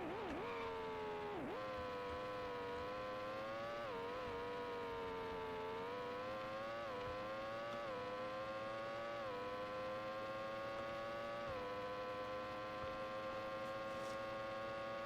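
Formula 1 car engine in a 1990s F1 video game, a thin, synthetic high-pitched whine that rises and falls with gear changes, heard alone without crowd or other effects.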